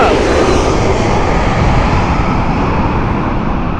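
A large jet airliner, likely a 767, passes loudly and close at Heathrow Airport, a broad steady engine roar filling the whole clip without a break.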